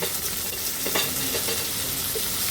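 Onion, chili and pointed gourd peel fry in a pan, giving a steady, close sizzle with the soft scrape of stirring and occasional louder crackles, with no talk over it.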